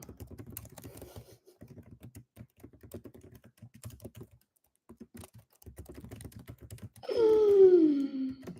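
Rapid bursts of clicky taps on a computer keyboard come in irregular runs with short pauses, close and crisp, before a sudden loud tonal sweep, like a whistle or sliding voice, cuts in over the final second or so.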